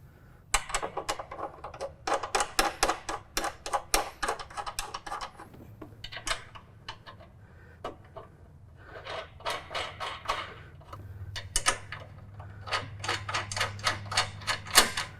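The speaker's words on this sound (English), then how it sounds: "next we need an 18mm wrench and a 17mm socket and ratchet to tighten things up" Socket and ratchet clicking while tightening nuts on a deluxe canopy with fan on a John Deere Z735M Ztrack mower, rapid bursts of close, sharp ratcheting ticks with brief pauses between strokes.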